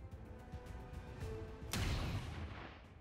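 A single sharp gunshot in the video game XCOM 2 cracks out midway, loud and close, followed by a fading rumbling tail over a low background hum.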